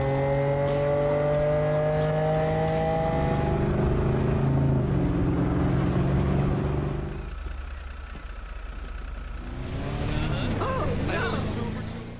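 Vehicle engine revving and shifting in Grand Theft Auto 5, rising tones stepping up through gears, then a rougher roar and another climbing rev; a voice talks over it at times.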